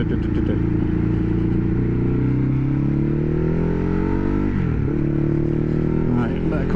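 Ducati Hypermotard 821 with a Healtech quickshifter, heard riding as a loud, continuous engine drone whose pitch climbs and drops sharply at a gear change under wind roar.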